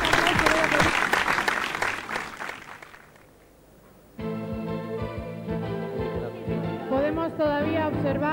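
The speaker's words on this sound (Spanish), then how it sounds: "Y un fuerte aplauso, por favor, para Pierre Alexandre, maestro internacional de la película" Audience applause at the Pierre Alexandre show at Look '98 in Madrid, a dense crowd clapping for about three seconds, then fading out before music with a singing voice takes over.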